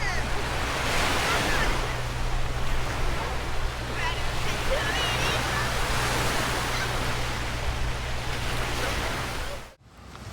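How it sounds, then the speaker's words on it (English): Sea waves rolling onto Poland's Baltic coast, a broad continuous wash of surf with wind buffeting the microphone, steady and fairly loud before cutting off abruptly near the end. "surrounded by nature and the sound of the sea"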